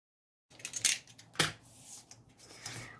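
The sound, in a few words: cutting through cardboard with repeated strokes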